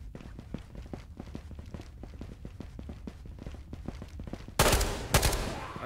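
Gunfire in the video game Rust: a rapid string of sharp shots interleaved with footsteps, then two louder close bursts near the end, with no talk over it.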